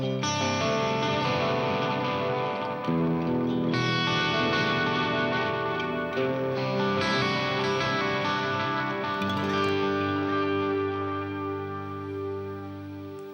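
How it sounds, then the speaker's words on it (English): Electric guitar played through a Tube Replex tape echo delay pedal, each phrase answered by thick, repeating echoes and sustained chords that fill the mix loudly and steadily, with no voices. "Just listen to that fat echo sound."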